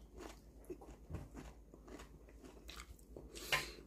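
Crunchy dried anchovies eaten with rice give a series of close, quiet crunching bites and chewing sounds, with a brighter crisp crackle near the end.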